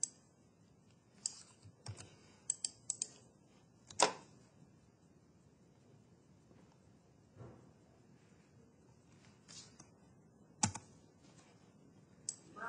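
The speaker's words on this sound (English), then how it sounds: "And then type" Typing on a computer keyboard at a desk while setting up an evaluation kit, faint scattered keystrokes in short bursts with long quiet gaps between them.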